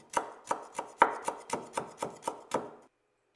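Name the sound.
finely slicing folded kaffir lime leaves with a knife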